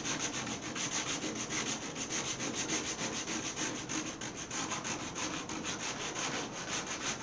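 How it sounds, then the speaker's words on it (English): Thick sandpaper rubbed over soft Bondo body filler on a 1929 Chrysler, a loud, continuous rasping scrape in quick regular back-and-forth strokes, close and alone. "So I'll try some thick sandpaper here."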